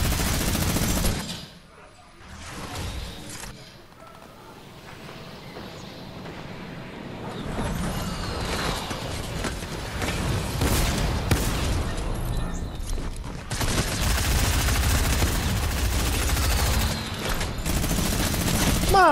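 Bursts of gunfire in the Fortnite video game, with rapid automatic fire and scattered shots that grow denser and louder toward the end, mixed with other game sounds.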